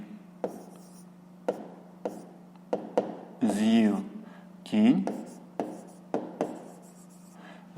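Pen strokes on paper while a fifth-grade math solution is written out by hand, brief scratchy taps and strokes at intervals, with a voice speaking quietly between them.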